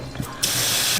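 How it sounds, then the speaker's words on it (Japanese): Water gushes steadily from a tap into a pot, a broad hiss starting abruptly partway through after a quieter moment, loud and close. "水を加えていきます。"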